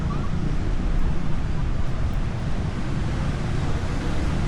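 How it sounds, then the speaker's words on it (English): Ocean waves break and wash continuously at Huanchaco beach, Peru, a broad, steady roar of surf mixed with gusting wind noise on the microphone. "There's some really cool waves over there."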